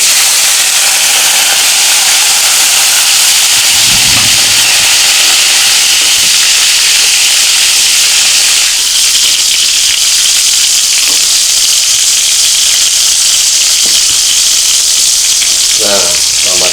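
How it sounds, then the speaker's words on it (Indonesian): Halved tomatoes fry in a pan, giving a steady, close sizzle and hiss that runs throughout, with a few faint clinks and stirring scrapes near the end. "Selanjutnya kita masak tomatnya yang udah dipotong bagi dua ya"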